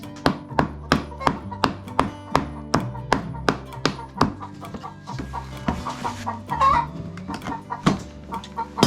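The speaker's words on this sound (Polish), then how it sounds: "Kura, ty co tam robisz? Patrzcie, kura tam jest." A chicken clucks in quick repeated pulses nearby, a steady rhythmic series with a brief squawk partway through.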